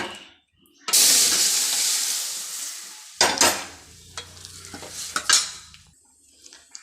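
Cooked vegetable pieces tipped into a pot of sambar with a loud wet splash and sizzle, followed by stirring with a utensil and a few clinks against the pot, fading to quiet.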